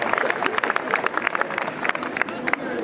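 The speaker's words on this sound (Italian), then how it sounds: "Facciamo un applauso, lo merita." During an outdoor cabaret show at a May festival in Vieste, a crowd applauds with dense, steady clapping throughout, mixed with background murmur and voices.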